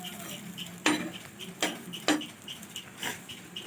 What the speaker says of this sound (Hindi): देखिए ऐसे उलट पलट के इसे दबा दबा के पकाएंगे।